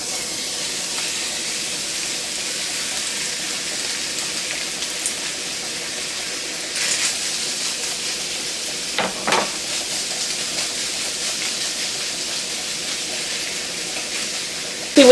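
Seafood sautéing in oil in a cast iron skillet gives a steady, close sizzle and hiss throughout, with a few brief sharper bursts of spattering or spatula scraping partway through and a small knock at the very end.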